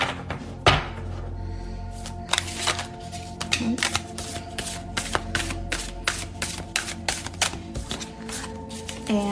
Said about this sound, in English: So I am going to give these a shuffle.